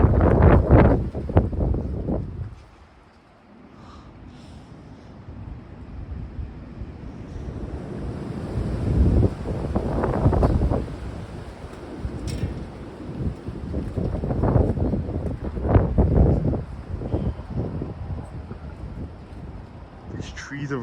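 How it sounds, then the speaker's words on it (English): Heavy, gusty wind roars through swaying trees in surging waves that swell and fade like ocean surf, with rumbling buffeting on the microphone and faint high tinkling in the background. "These trees are really dancing in the wind."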